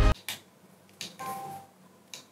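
A few sharp, quiet clicks spaced apart, close up, from the noise cancelling button on infinitePods Max headphones being pressed, with a faint brief tone in between.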